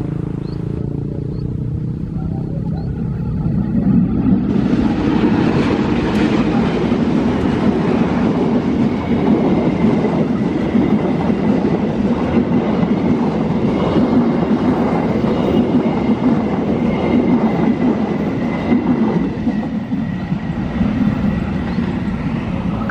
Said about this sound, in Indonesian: Kereta api lokal Cibatuan OTW stasiun Karangsari.